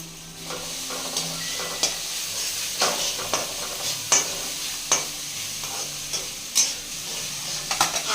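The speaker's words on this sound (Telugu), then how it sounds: "ఆనియన్స్ అదేవిధంగా అల్లం వెల్లుల్లి పేస్ట్గా వేగింది" Onions and ginger-garlic paste fry in a pan under a constant soft sizzle, while a spoon stirs and scrapes against the metal in irregular knocks every second or so, close and clear, without any talking.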